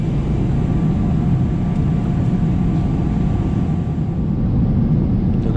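Steady, loud roar of an airplane cabin about nine hours into a long flight, a constant low engine rumble and airflow hiss with no pauses and no talk.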